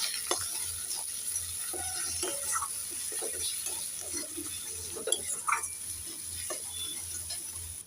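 Turmeric, cumin and coriander paste being stirred in a frying pan for Bengali fish curry, a continuous low sizzle with scattered scraping and tapping of the spoon, close and steady, no voices.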